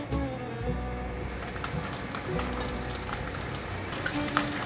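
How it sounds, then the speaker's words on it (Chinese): Gluten sausage fries in olive oil in a deep soup pot over medium-low heat, giving a steady, soft sizzle and crackle with scattered pops throughout. "面肠都均匀沾上油了，现在让它慢慢的煎。"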